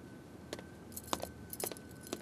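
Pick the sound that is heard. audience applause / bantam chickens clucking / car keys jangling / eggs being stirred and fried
car keys jangling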